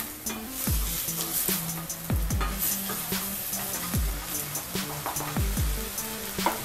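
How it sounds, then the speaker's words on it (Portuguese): A fish head and skin go into a pan for pirão, fish broth thickened with flour, and give a steady close sizzle. Repeated scrapes and clanks of a stirring utensil against the pan break through it, and no one speaks. "nós vamos acrescentar a nossa cabeça do peixe. Vamos misturar junto a casca."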